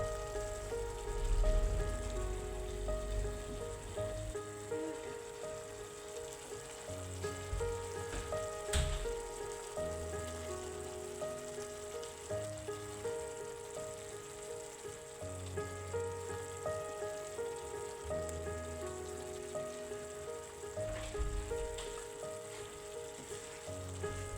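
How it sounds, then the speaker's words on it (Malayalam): Kerala-style fish curry masala bubbles at a steady boil in a pot, a continuous soft sizzling and popping with occasional louder bursts, with no voices over it. "ഇതിപ്പോൾ നന്നായി തിളച്ച് വന്നിട്ടുണ്ട്"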